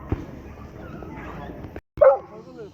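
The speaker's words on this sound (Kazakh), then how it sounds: "Ал достар, назарларыңызға Кускар тұқымды ит." A three-year-old male Kuskar-breed dog at a Kyzylorda poultry and animal market gives a few short barks and yips amid nearby voices and market chatter.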